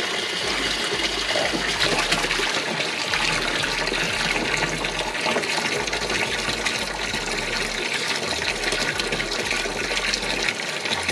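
Water gushes steadily into an IBC bait tank, a loud continuous rushing and splashing flow with no talking.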